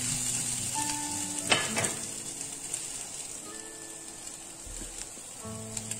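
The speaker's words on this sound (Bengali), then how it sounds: "পেঁয়াজটা আমি এভাবে ভাজি সবসময়" Onions fry in a pan with a steady bright sizzle, broken by a few clatters of stirring and some faint tonal kitchen sounds in the background.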